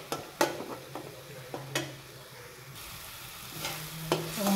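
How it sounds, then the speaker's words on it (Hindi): A spice paste with onion fries in a pan for jackfruit sabji, giving a steady low sizzle. Sharp scraping stirs cut through it at intervals. No one speaks. "इस पेस्ट को हम अच्छे से फ्राई कर लेंगे।"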